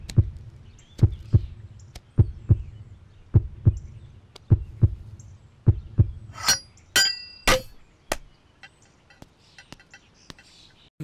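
A film's heartbeat sound effect thumps in a steady double-beat rhythm, close and prominent, with a few bright glassy clinks and sharp bursts cutting in near the end before it fades out.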